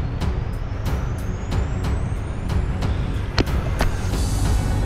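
Trucks crawl up a steep mountain road near Davao City, a steady low engine drone with repeated hissing air-brake bursts roughly every half second, fairly close and loud with no talk.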